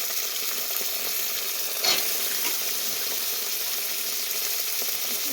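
Black-eyed peas fry in hot oil in a pan, giving a steady, faint sizzle with a short clatter of stirring near the start.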